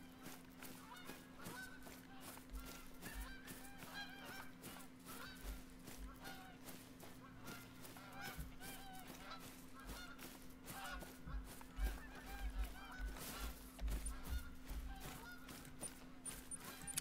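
Goose honking outdoors amid dense, continuous noisy background with a steady low hum, the calls repeated and mixed into the clutter rather than standing alone.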